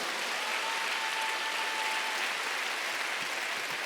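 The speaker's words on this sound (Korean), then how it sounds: "그런 사람하고 믿는 사람만 빨리 박수 주세요." Sustained applause from a church congregation during a Sunday worship service, a dense, steady wash of many hands clapping at once that fills the room without pause.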